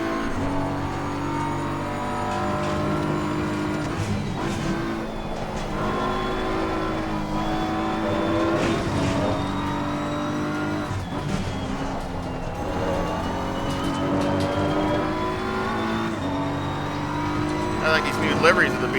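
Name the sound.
BMW race car engine in Assetto Corsa Competizione video game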